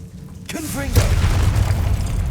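A Confringo fire spell bursts in the video game Hogwarts Legacy: a brief voice-like cast gives way to a loud, deep boom that rolls into a sustained rumbling blast lasting about two seconds.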